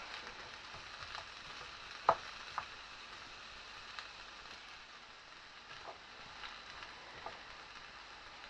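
Chopped vegetables cook over medium-high heat in a single pot for pasta, giving a faint, steady frying hiss with scattered soft pops and ticks, including one sharper crackle, quiet and close with no voices.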